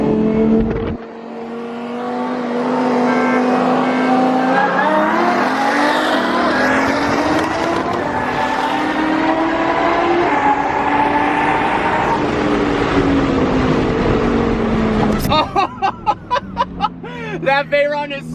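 A Bugatti Veyron Super Sport races a Lamborghini, and the engine drones loudly and rises in pitch as it accelerates hard. Near the end it gives way to a sharp burst and rapid pops, with people laughing and talking over it.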